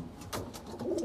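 Racing pigeons in a loft giving short, soft coos close by, a few low throaty calls in about a second.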